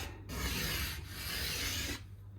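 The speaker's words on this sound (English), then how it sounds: "This one's a bit longer, so we'll start with a little bit of a scrape to get it down to size." A part for a Yamaha Pacifica guitar is scraped down to size in two long, smooth rasping strokes with a short pause between them, close and fairly quiet, with no talk.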